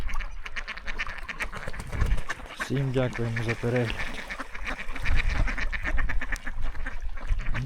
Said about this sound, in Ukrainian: От качки купаються.